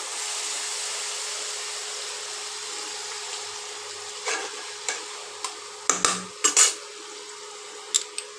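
Masala paste of tomato, ginger, garlic and chili sautéing in a pan with a splash of water, a steady low sizzle followed by several clattering spoon scrapes against the pan.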